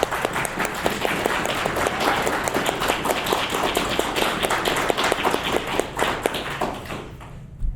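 An audience claps for about seven seconds, a dense spread of hand claps and tapping that holds steady before trailing off near the end.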